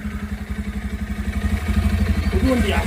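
A new motorcycle's engine idles close by, its pulsing putter getting steadily louder as the bike rolls in through a village, with people talking over it.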